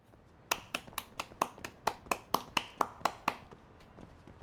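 A clapping sound effect from the video game Lost Judgment: about thirteen sharp, evenly spaced slow claps, fairly quiet and alone, starting after a brief pause and ending in silence.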